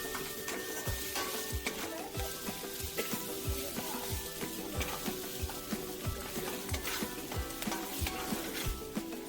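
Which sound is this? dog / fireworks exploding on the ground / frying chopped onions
frying chopped onions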